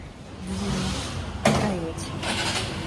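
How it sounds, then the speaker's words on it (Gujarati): A car engine cranks and catches in a brief close burst, then settles into an idle, with voices talking around it. "ગાડી સ્ટાર્ટ કરે છે"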